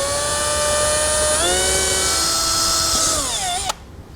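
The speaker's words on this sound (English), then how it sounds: "I'm going to drill through all 4 corners on each one of my templates" A power drill whines steadily, close and loud, boring holes through a base plate template for a 2018 Jeep JL Wrangler Unlimited, rising and bending in pitch before cutting off abruptly.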